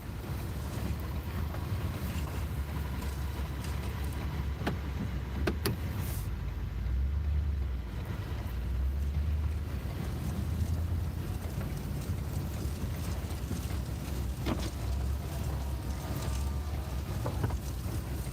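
A Ford F350 truck salting a snowy lot with its bed auger and spinner running: a steady, close engine rumble with wind buffeting throughout, no voices.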